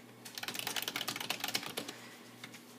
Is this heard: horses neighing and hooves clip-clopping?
no